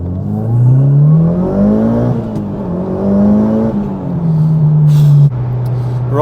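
A Mitsubishi TME RS engine revs up and down in several loud, close swells, its pitch climbing and dropping while the car is warmed up before runs in a Golf R challenge.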